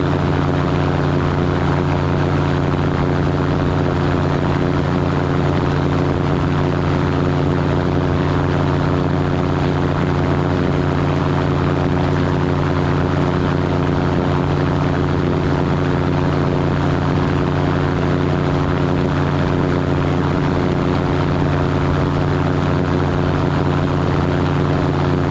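A small propeller airplane engine drones steadily and loudly throughout during water landing practice, a constant unbroken hum with no talk.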